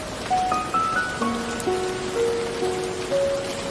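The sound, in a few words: heavy rain falling on tea hills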